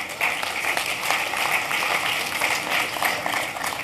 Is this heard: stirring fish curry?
no